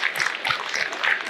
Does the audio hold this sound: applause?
yes